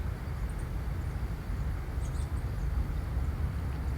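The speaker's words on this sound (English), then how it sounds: "This is just like a random outdoor noise." Steady outdoor ambience beside a river with a low rumbling wash of noise, constant and even throughout, with faint high chirps now and then in the distance.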